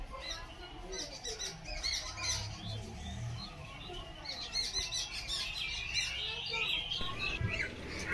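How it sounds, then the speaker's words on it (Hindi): Birds flying home at dusk, chirping and twittering in a lively, fairly near chorus of quick overlapping calls over soft outdoor background noise. "चिड़िया सब देखो फ्रेंड्स, सब उड़ उड़ के ना अपने घर पे जा रहा है"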